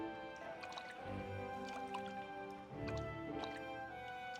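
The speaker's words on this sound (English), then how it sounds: "Swimming. Okay, we don't just die in water." Swimming through water in the video game Ys: Memories of Celceta, with soft watery splashes and drips repeating in strokes over steady game music.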